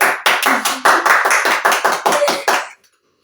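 A small group claps in a quick, evenly spaced rhythm during a balloon-and-glass challenge game, about a dozen sharp close claps in succession before stopping abruptly into silence.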